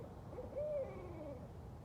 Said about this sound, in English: And they're going back and forth with their hoots.